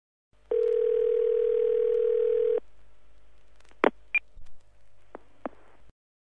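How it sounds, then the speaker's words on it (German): Steady telephone line tone on an automated phone information service, a loud continuous tone for about two seconds, followed by a few short electronic clicks and beeps with a faint low hum. "Sie hören eine automatische Telefonauskunft."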